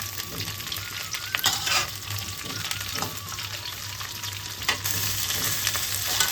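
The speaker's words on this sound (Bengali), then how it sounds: "সবজিটাকে কিন্তু ভালো করে ভাজতে হবে।" Mixed vegetables for dry shukto, including eggplant, drumstick, potato, green banana, flat beans, sweet potato and radish, fry loudly in a pan with a constant close sizzle and occasional stirring scrapes, no voices.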